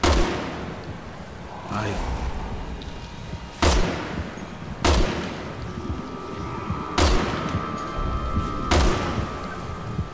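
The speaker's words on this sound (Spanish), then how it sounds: "Vamos a ver si con un disparo el francotirador" Sniper rifle shots in Resident Evil 6, five sharp loud cracks spaced about a second or two apart, each with a short echoing tail, over a low game ambience with a brief word spoken.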